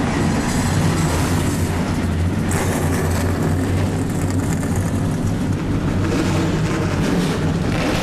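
Race trucks at the start of the 2009 San Bernardino County 200 fire up and rev, producing a dense, loud, continuous engine roar that holds steady for about eight seconds with no clear speech.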